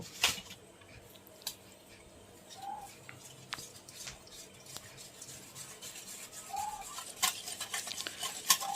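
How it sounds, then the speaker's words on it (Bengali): Thick batter of flour, cornflour and water being whisked for paneer chops, heard as faint, close scraping and light taps of a utensil in a bowl that grow busier toward the end. "আমি নিচ্ছি একটু ময়দার কর্নফ্লাওয়ার, একটু জল দিয়ে একদম একটু ঘন ব্যাটার করে নেব"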